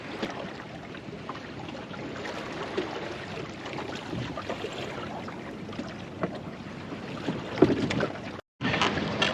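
A sailboat cuts through a choppy tidal race off Penley Point on an outgoing tide, with steady rushing and slapping water against the hull and wind buffeting close to the microphone. A brief dropout comes near the end.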